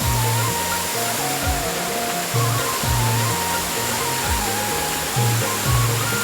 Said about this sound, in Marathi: कोकणातले हे बघा सुंदर असे धबधबे आहेत